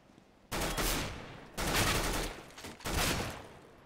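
Submachine gun fire in a Counter-Strike match, three loud sustained bursts of rapid automatic shots separated by short pauses, close and alone without talk.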